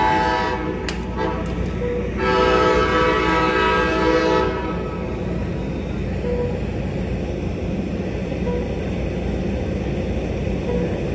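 An Amtrak Capitol Corridor train passes at Oakland Jack London, sounding a loud horn blast for the first few seconds before its heavy rolling rumble carries on steadily.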